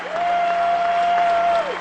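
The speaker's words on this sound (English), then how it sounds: "And they're still applauding." Basketball crowd at a Drake Bulldogs versus Bradley Braves game applauding a player, a dense sustained wash of clapping from a large arena audience, with a whistle-like tone running through it.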